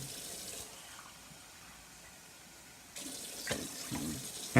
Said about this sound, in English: Our first step was pouring 20 cups of water into our pot.